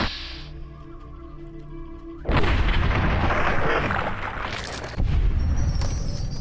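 Gunfire in the video game Fallout: New Vegas: a sudden booming shot cuts through quieter game ambience, followed a few seconds later by a second heavy blast, two loud reports in all.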